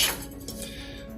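An oiled baking dish set down on a kitchen surface, making one faint, brief clink of glassware.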